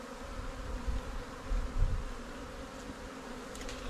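Honey bees buzzing around frames pulled from a hive rescued from a bee tree, a steady, dense drone of many insects close by, with no speech.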